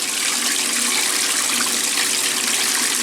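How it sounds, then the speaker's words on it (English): A 1996 Maytag Dependable Care Plus washing machine drains its tub during a regular cycle, producing a steady, loud rushing of water that holds unbroken for about three seconds. "It's going to start the drain now."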